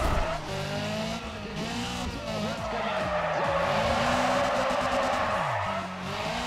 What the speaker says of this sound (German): Der burnt einfach hier direkt am Anfang durch, weil ich natürlich überhaupt keinen Grip kriege